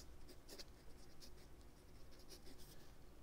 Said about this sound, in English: I'm gonna write this down too